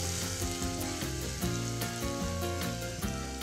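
Chopped onion and garlic softening in oil in a pan, a continuous close sizzle with brief rhythmic stirring knocks, steady and fairly loud with no talk.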